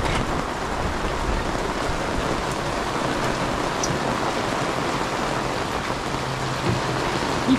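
Steady rain falls at Portoferraio port, a dense, even hiss of drops on surfaces that holds at the same level throughout with no voices.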